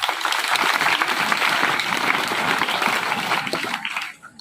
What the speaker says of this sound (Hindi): जो नहीं लगाते उनके लिए ताली बजा दो